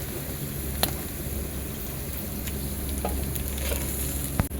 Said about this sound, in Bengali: এবার আমি গোটা গরম মশলাটা ফোড়ন দেব।